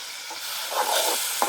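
Chopped tomato and green peas land in a hot pan with ginger-garlic paste, giving a brief close sizzle that swells and crackles, with a small clink near the end.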